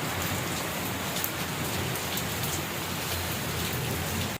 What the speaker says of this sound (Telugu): మా ఊళ్ళో వర్షం పడుతుందండి